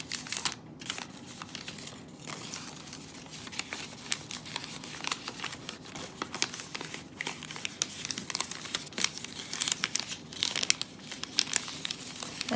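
Paper folded for origami crinkles and rustles continuously up close, with steady creasing and sliding scrapes in irregular bursts and no talk.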